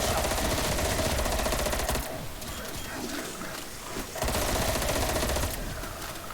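Rapid automatic gunfire in the Call of Duty Cold War video game, loud sustained bursts broken by a short lull of quieter clatter before the shooting resumes.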